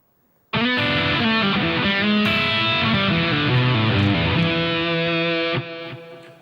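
Overdriven electric guitar plays a fluid hybrid-picked lick in E in first position, with sliding, sustained notes, loud and close, ending with a held note fading out.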